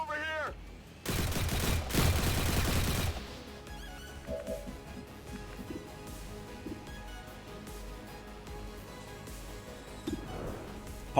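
Gunfire bursts from the video game XCOM 2, a dense loud volley in the opening seconds followed by scattered quieter shots and game effects, with a voice talking faintly over parts of it.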